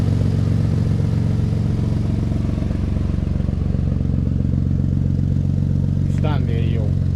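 A Nissan 300ZX Twin Turbo engine idles close by, and its exhaust, leaking where a flange isn't flush, makes a steady, rapid puffing tick. A brief high chirp sounds near the end.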